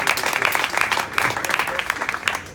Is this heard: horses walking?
no